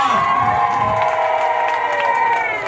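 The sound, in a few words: crowd clapping and cheering at a political rally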